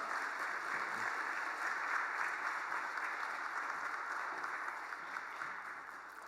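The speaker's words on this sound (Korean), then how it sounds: "우리 큰 박수로 함께 맞이하겠습니다" A church congregation applauds to welcome a missionary to the front, a soft, even roll of many hands clapping that sounds somewhat distant and fades slightly toward the end.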